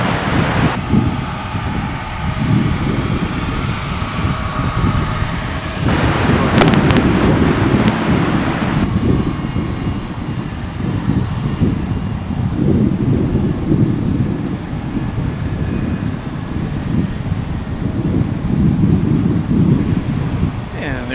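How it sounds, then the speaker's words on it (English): A UPS Boeing 757 taxis in to park at DFW International Airport, a steady broadband jet engine rumble heard from outside with gusty wind buffeting the microphone and a brief louder burst partway through. "There's one of the UPS 757s coming into park"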